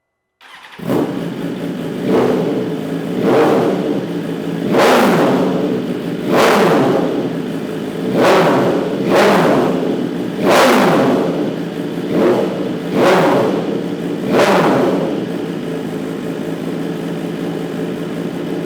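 Motorcycle fitted with a full titanium Spark exhaust starts up and revs in a garage, with seven sharp, loud throttle blips rising and falling over a steady idle.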